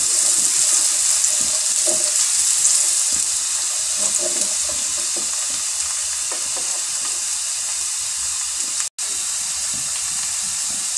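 Sliced onions fry gently in oil in a pan for a green chickpea curry, a steady soft sizzle and crackle running throughout, close and even, with no voices.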